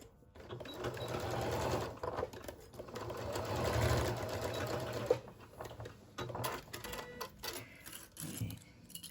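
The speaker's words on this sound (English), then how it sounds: "Back stitch so that for our opening." Sewing machine back stitching the lining opening of a round rice bag, a steady close mechanical whir of rapid stitches that slows and speeds over several seconds, with no talking.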